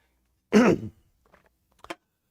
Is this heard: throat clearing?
yes